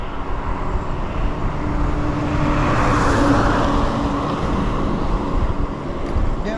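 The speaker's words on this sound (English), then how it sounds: "A big truck right there." A big truck rushes past on a road, heard from an electric bike riding alongside, its broad roar swelling to a peak midway and fading, layered over steady wind buffeting the microphone.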